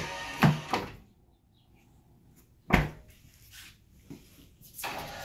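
Amp Research PowerStep running boards on a 2017 Toyota Tacoma swing out and tuck back in as the truck door opens and closes. Several sharp mechanical clunks and short whirring motor bursts come from close by, with quiet gaps between them.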